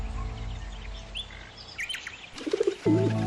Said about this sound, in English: Now we will go near the pigeons.